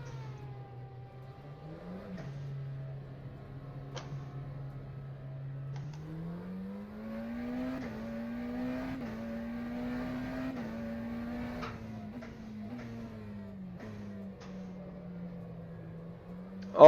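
The engine of a McLaren GTR race car in the racing game rFactor 2 hums steadily and then rises in pitch as it accelerates, holding a sustained drone with small shifts. It is fairly quiet and heard alone, without talk.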